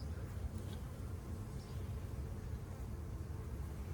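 Honey bees from a hot, defensive hive drone at an opened colony, a low, dense, continuous buzz close by with no talking.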